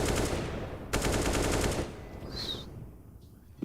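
Rapid automatic gunfire in a Counter-Strike esports match, wall-bang bursts on the Overpass map, two long dense volleys back to back, loud and close, then a fading tail with a brief high metallic ring.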